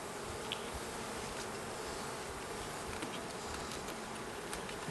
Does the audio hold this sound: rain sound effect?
no